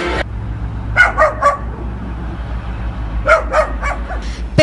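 A dog barks at a cat in two quick clusters of sharp barks and yips, loud and close, over a steady low hum.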